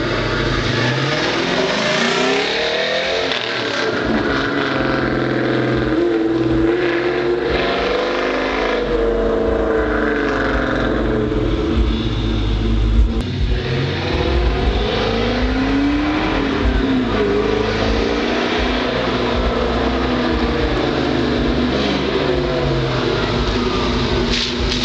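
A car engine revs and accelerates hard, roaring past nearby, then fades and swells again as it turns and comes back.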